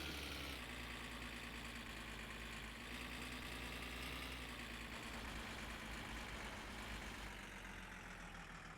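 A car engine idles in a video game, a steady low rumble with a slight knocking vibration, quiet and unbroken throughout with no talk.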